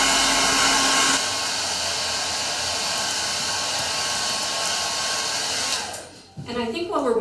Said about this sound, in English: I'm going to give it a little shot with the blow dryer